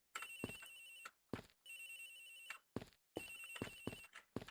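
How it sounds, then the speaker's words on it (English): A cell phone ringtone in the Ace Attorney Investigations video game, a bright electronic melody in repeated bursts separated by short silences, faint and with no talk over it. "It sounds like the phone is up in the flight attendant's room."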